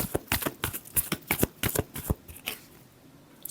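Tarot cards are shuffled by hand in quick, crisp riffling bursts, a dozen or so close flutters that thin out toward the end, quiet and with no voices.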